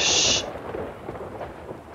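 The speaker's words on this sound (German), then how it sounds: "Ey, der Donner ist übelst laut" Thunder rumbles in the video game Farthest Frontier, a loud broad roar that trails off into a lingering low rumble, heard alone without talk.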